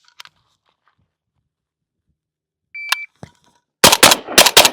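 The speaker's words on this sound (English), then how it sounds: "Very pleasant to shoot with that suppressor." Suppressed gunshots from a Galil ARM rifle at an outdoor range: a brief faint click, then a pause and a few short cracks, ending with a close cluster of sharp, loud muffled reports, with no talking.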